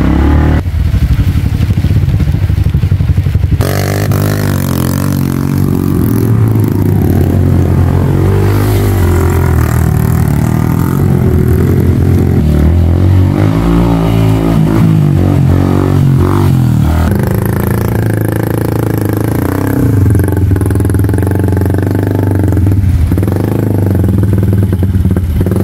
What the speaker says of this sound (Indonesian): Tiba di sini motor Pak Erwin